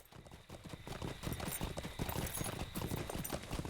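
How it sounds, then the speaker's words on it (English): A horse's hooves in the video game Lord of the Rings Online, clip-clopping in a quick, steady rhythm at close range that continues throughout. "I'm going on my normal horse because all this craziness of mounted combat is driving me doolally"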